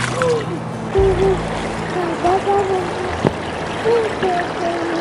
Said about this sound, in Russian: Это шумит ручей.